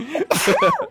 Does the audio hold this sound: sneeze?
yes